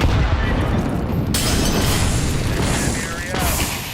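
A grenade blast in Counter-Strike 2, a loud, close, rumbling boom that fills the whole moment and slowly fades, with a second sharp hit partway through and voices talking under it.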